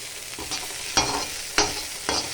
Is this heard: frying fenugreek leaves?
yes